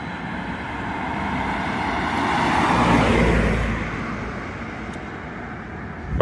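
London bus near Burnt Oak leisure centre pulling away at night, its engine rumble swelling briefly then fading steadily into the distance amid general road noise.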